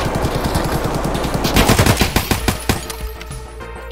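Rapid automatic gunfire rings out in Escape from Tarkov as a PMC is shot, loud, close bursts with sharp repeated cracks, then a few spaced single shots trailing off.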